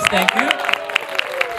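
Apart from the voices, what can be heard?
congregation applause at a church service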